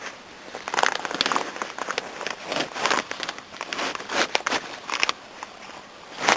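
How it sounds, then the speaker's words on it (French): The plastic sheet of a small 5 m² tunnel greenhouse is lifted, giving off repeated crinkling, crackling rustles in irregular bursts, close and fairly loud, with no voices. "Il suffit de soulever le plastique"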